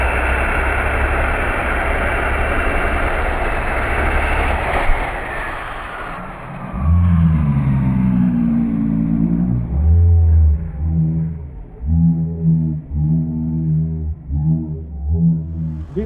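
A German pulling tractor at the Berghausen tractor pulling event gives a loud, dense roar that fades, then turns into deep, uneven revving bursts that sputter and surge toward the end.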